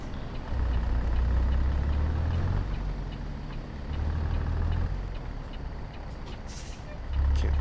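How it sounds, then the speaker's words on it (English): A Kenworth truck passes in American Truck Simulator as a deep diesel rumble that swells and fades in waves, with a sharp hiss of air near the end. "And wait for this Kenworth to go by."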